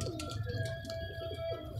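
A pigeon coos softly nearby, low rounded throaty calls repeating in a steady rolling rhythm over a faint constant hum.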